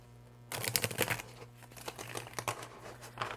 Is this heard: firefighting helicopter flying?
no